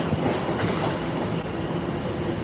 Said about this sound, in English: Let's say goodbye to this train, which goes to Pingford.